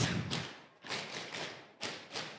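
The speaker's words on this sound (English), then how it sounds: "And stamp your feet." Several heavy foot stamps land in uneven bursts, dull thuds mixed with scuffing, close by with short pauses between.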